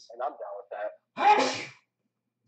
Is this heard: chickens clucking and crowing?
no